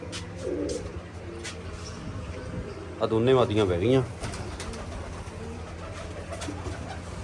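Pigeons coo in a short warbling burst mid-clip, close by, while someone speaks Punjabi over the ongoing bird chatter and outdoor background.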